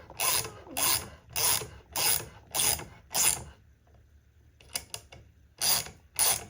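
A hand tap cuts threads into a hole in metal during a Jonsered 625 II chainsaw rebuild, giving repeated close ratcheting, grinding strokes in a steady rhythm, with a short pause before the turns resume.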